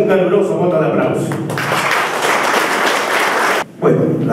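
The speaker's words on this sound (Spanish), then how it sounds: "Vamos a recibir con un caluroso voto de aplauso." A crowd at a historical review event for the Vinchos district in Ayacucho, Peru, breaks into warm applause welcoming a speaker. Clapping swells loudly for about two seconds after someone speaks, then cuts off.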